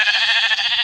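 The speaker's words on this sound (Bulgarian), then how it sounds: "Тъпа овца." A sheep in Minecraft gives one loud, steady bleat that lasts about a second, close and clear with no talk over it.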